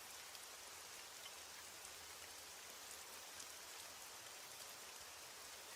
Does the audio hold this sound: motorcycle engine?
no